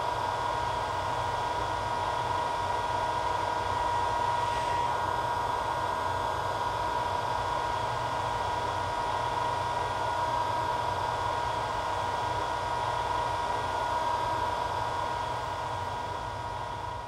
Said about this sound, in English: I use the hairdryer, and I don't keep it in one spot because it could get too hot